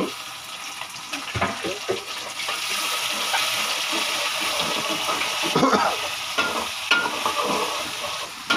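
Prawns and potatoes go into a hot pan for a Malabar spinach and prawn curry, giving a steady sizzle with stirring scrapes and a few sharper knocks throughout.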